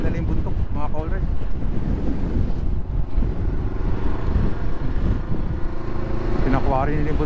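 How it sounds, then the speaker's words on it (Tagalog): Strong wind roars steadily across the microphone at Agwawan Beach in Mariveles, Bataan, a continuous broad rumble with faint water and boat noise underneath, along with a voice talking. "Wow, lakas ng hangin no?"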